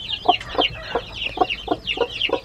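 A hen clucks in a steady series of short, throaty notes, about seven in quick rhythm, close by with faint bird chatter above.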